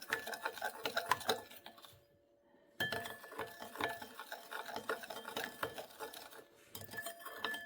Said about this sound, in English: You can use a whisk at this stage if you find it easier to get rid of any of the clumps.